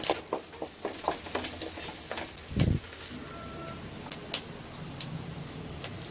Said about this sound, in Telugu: ఇందులోకి పచ్చి కరివేపాకు వేసుకుందామండి.